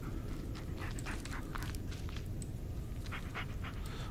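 A dog pants steadily in the video game Blair Witch, its quick rhythmic breaths sounding faint over a constant low background hum.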